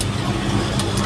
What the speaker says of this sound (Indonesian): Kondisi mesin hidup, AC saya nyalakan.